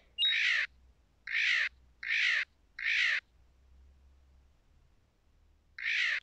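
Caracal calls in a Shlyopa video game come as five harsh, loud screeching bursts. Four arrive in quick, even succession, then a pause, then one more, with silence between and no voices.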